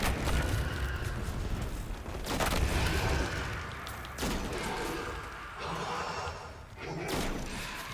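Shotgun fire in the video game Destiny 2: heavy booming blasts repeat every second or so over a dense, noisy battle bed, loud and close, with a voice talking faintly under the shooting.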